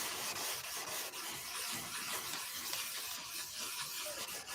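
Car paint being wet or hand sanded with 1000 grit sandpaper, a continuous close rasping scrub with a steady back-and-forth texture and no talking.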